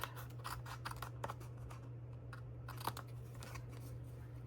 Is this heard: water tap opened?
no